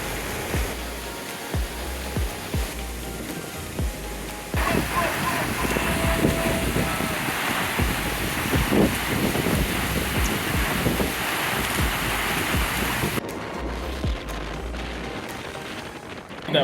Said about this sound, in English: That wind today. It was crazy, man.